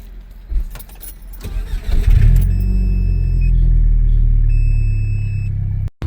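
A 2003 Audi TT engine cranks and fires up after some jangling and handling noise, then settles into a loud, steady low idle rumble with a faint high whine, cutting off abruptly near the end.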